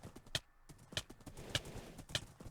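Horse hooves in a video game clip-clop in a steady rhythm of sharp, evenly spaced strikes, close and fairly quiet with nothing else over them.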